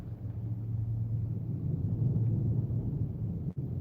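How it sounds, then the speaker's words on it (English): Deep, low rolling thunder rumbles continuously for several seconds, steady and heavy, with no talking. "You hear the thunder?"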